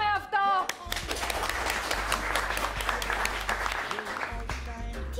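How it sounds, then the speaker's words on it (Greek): Audience applause from a Greek television studio crowd, a dense wash of clapping that swells in after a brief pause and carries on steadily with a voice briefly heard at the start. "Να το χειροκροτήσουμε αυτό!"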